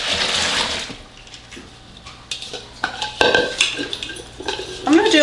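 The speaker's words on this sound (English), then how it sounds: "So I'm just going to pour it in a strainer." Soaked homemade potato fries and their soaking water poured into a strainer, with close, loud splashing and clattering against the metal and a bowl in bursts, rattling as the potatoes tumble and drain.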